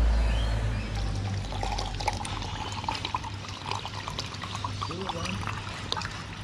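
Isopropyl alcohol emptied from upturned bottles into a container, a steady near pour and trickle of liquid running continuously, with people talking over it.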